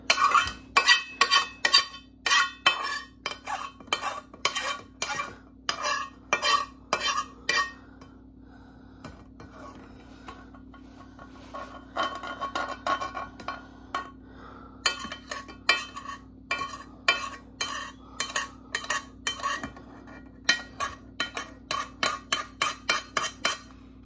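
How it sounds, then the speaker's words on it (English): A spoon scraping and tapping inside a pot while butter and cannabis are cooked down, quick metallic strokes in bursts separated by a quieter pause, close and clear with no speech. "I want to get everything from this pot, so I'm just going to use a spoon."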